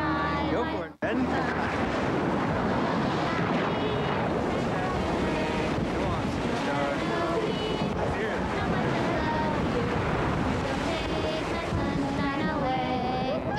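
Ocean waves and surf roll continuously at a beach in a 1998 Chevy Blazer TV commercial, a loud wash of breaking water with wind buffeting the microphone, under music and voices.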